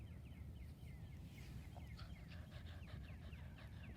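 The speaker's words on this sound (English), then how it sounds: "Hear the sounds of those birds in the background." Faint birds call and chirp in repeated short phrases over a low steady rumble of a flowing river, no talking.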